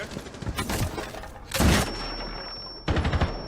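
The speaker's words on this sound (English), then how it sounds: "He's shooting somewhere." Gunfire in the game Rainbow Six Siege sounds as several sharp bursts of rapid shots separated by short gaps, with a high electronic tone lingering between them, moderately loud and without speech.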